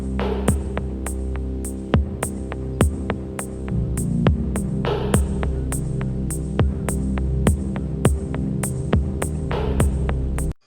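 An electric sewing machine runs steadily while stitching the cover seam on a one-tuck blouse, its even motor drone punctuated by regular sharp clicks, close and fairly loud.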